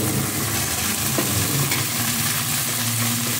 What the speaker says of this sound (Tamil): இது வந்து இப்போ காரப்பொடி, உப்பு, பெருங்காயம் போட்டு வதக்க போகிறேன்.